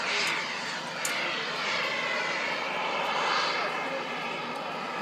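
RC jet glider performing aerobatic manoeuvres, a steady whooshing turbine whine heard from a distance with a faint, even rise and fall as it passes overhead.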